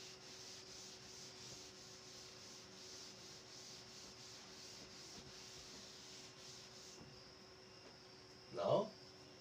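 Steady, quiet rhythmic rubbing as writing is erased from a classroom board, with a faint electrical hum underneath and a brief louder bump near the end.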